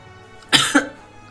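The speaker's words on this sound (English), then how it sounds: "I'm sorry if I, like, am coughing all up in that mic" A single person with a lingering illness coughs once, close to the microphone, a sharp harsh burst followed by a second shorter cough, standing alone against a quiet room.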